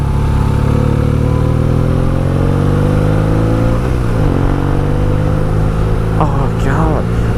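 A motorcycle accelerates to overtake on a road in Italy, its engine loud and close with rising revs and gear changes, plus wind rumble throughout and a brief higher whine near the end.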